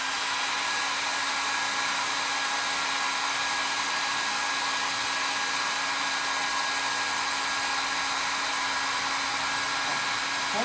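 A hair dryer blows steadily on freshly varnished MDF jewelry box parts, a constant close, loud whirring hiss with a steady tone that runs unbroken and without talk.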